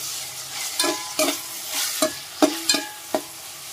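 Tomatoes frying in a pan for a drumstick tamarind stew (munagakaada pulusu), with a soft steady sizzle broken by several sharp scrapes and clacks as they are stirred, close up and with no talk.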